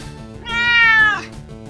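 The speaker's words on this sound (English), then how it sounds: "Meow yourself, Frisky." A cat gives one clear, loud, drawn-out meow of about a second, rising and then falling, alone over a quiet background hum.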